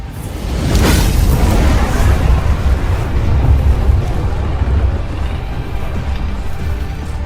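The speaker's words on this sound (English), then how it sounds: "That's the biggest fire tornado I've ever seen." A giant fire tornado roars steadily and loudly throughout, a broad rushing, whooshing rumble with a swell near the start and a constant low-end roar, with no talk over it.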